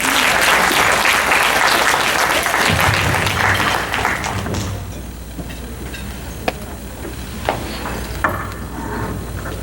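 Loud applause from a crowd at a formal gala fundraiser dinner, dense clapping for the first few seconds, then thinning and fading out with a low rumble of room noise.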